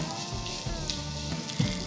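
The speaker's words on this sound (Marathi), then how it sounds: "तेल गरम केलं, यात स्लाइस केलेला कांदा घालूयात." Sliced onion with ginger pieces and a few garlic cloves fry in hot oil on a griddle, giving a steady close sizzle and crackle with small pops throughout.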